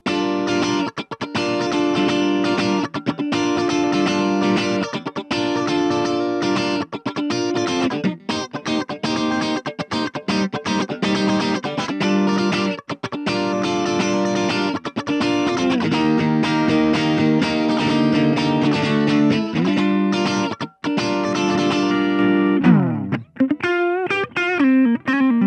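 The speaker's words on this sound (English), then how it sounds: "The guitar also has a coil tap function, so I'll be going through tones with humbuckers and with the humbuckers being tapped." An Ibanez electric guitar with humbuckers and coil tap plays through a small mini amp, producing sustained distorted chords and notes in a steady run of phrases, close and alone with a sliding bend near the end.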